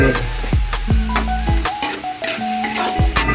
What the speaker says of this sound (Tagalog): ginigisa natin yung sinagtad na babon